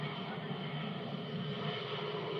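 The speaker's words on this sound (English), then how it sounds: "Look at that massive aircraft leave the ground." A US Air Force C-17 military transport aircraft lifts off after a very short takeoff roll, its jet engines producing a loud, steady broadband roar close by with no pauses.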